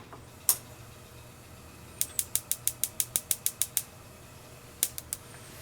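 A Napoleon gas grill sizzle burner igniter clicking, one sharp click followed by a rapid, evenly spaced series of about a dozen clicks and a few more at the end, over a faint steady hum.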